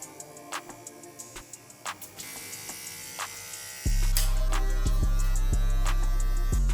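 An electric hair clipper with a number 1.5 guard buzzes steadily and close by while trimming a moustache in a barber shop, after a run of soft ticking sounds.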